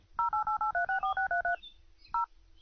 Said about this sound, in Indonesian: Coba aku telepon lagi